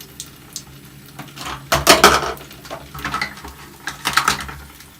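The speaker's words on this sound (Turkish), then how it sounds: "Bulaşık mı yıkıyorsun?" Toy pots, pans and dishes are handled in children's kitchen play. Irregular clinks and clatters come in a few louder bursts over a quiet background, close by, with no clear speech.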